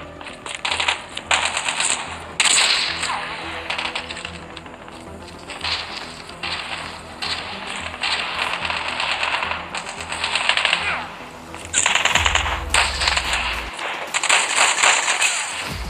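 Rapid automatic gunfire from Call of Duty Mobile in Gun Game mode, with dense bursts of sharp, crackling shots running almost without a break at high, steady loudness, and several heavier thuds near the end.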